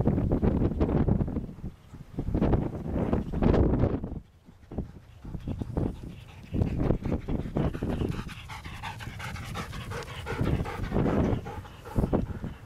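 A dog pants close to the microphone in rapid rhythmic bursts outdoors as a large storm gust front arrives at Port Hedland, Western Australia, with gusty wind buffeting underneath.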